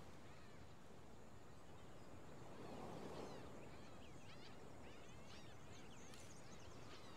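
Seagulls calling on a beach in the survival video game HEAT Survival, several faint high cries scattered over a steady wash of surf, somewhat distant and quiet.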